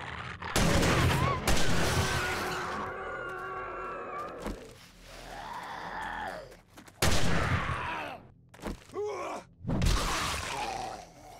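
Loud gunfire bursts in the video game 7 Days to Die, heavy shots in several separate clusters with gaps and groan-like zombie noises between them, close and forceful.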